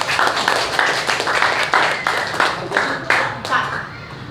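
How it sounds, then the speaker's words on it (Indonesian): Pupils in an elementary school classroom clap for a classmate, Ngurah, producing a steady run of close, fairly even hand claps that fill the room for a few seconds. "tepuk tangan untuk Ngurah."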